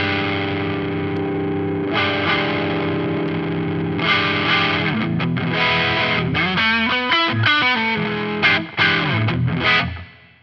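Distorted electric guitar played through a pedalboard with a mid-cut effect engaged, held chords giving way to quick riffs and sharp stabs with reverb, ending in a fading ring.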